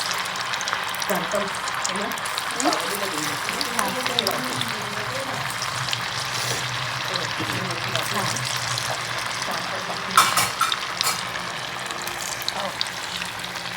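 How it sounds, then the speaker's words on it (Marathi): Manchurian balls deep frying in hot oil, a steady bubbling sizzle with some stirring and a brief clatter partway through, as someone talks softly over it. "आता त्याला मी ना डीप फ्राय कशी करते तुम्हाला मी दाखवते"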